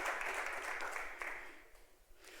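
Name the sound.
congregation applauding in church service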